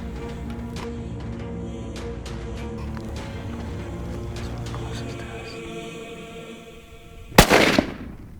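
A single loud rifle shot cracks out near the end during an African hunt, following a stretch of quiet outdoor ambience with faint rustling and clicks, and its report decays briefly afterward.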